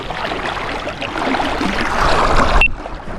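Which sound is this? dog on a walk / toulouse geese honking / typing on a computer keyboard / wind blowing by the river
wind blowing by the river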